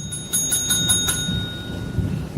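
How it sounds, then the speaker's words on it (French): A doorbell rings with a rapid series of about five bright metallic strikes over a low, steady rumbling background, followed by a lingering tone. "Tiens, on sonne."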